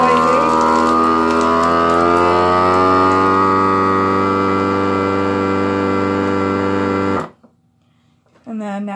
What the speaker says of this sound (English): And then now it's all vacuumed and it'll go over and it will seal just like it did the other side.